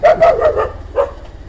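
A dog on a street barks sharply four or five times in a quick, uneven burst nearby, with a short pause before the final bark.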